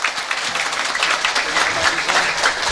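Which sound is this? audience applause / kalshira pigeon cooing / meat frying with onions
audience applause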